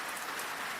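Steady rainfall, a soft, even hiss of drops without a break, heard alone and fairly faint.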